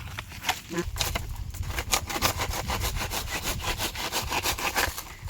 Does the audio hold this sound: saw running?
yes